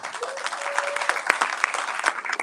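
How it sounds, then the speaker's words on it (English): Steady applause from a lecture audience, a dense wash of clapping throughout with a few sharper claps standing out. "give an applause for all the people who volunteer their time."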